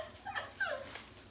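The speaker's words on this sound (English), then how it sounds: "And that was my dog." A dog whimpers softly in a few short, high, whining yelps, faint and close by, with no talk over it.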